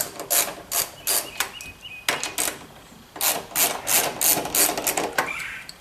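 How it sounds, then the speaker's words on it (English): Old 10 mm bolts come out of a Jeep JK during a grab handle install, heard as close bursts of ratcheting and metallic rasping with brief pauses between turns. "we're going to remove the old bolts and put these in"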